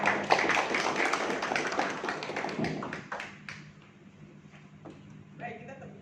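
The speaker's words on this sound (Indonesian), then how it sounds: "kita tepuk tangan untuk kita sendiri" Audience clapping at a paralegal training session for university students, brisk and dense at first, then thinning to scattered claps and taps as it dies away, with faint talk in the background.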